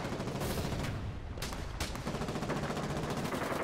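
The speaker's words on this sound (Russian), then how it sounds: "Пулемет, блять, вот хуйня." In the war game Foxhole, machine guns hammer in sustained rapid bursts, dense and steady, with several guns overlapping at different distances and no clear break.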